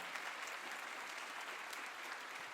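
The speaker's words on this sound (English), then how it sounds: "Another round of applause." Audience at a graduation ceremony applauding, a continuous, even patter of many clapping hands heard at a moderate distance and fairly quiet, sustained for the whole stretch without speech.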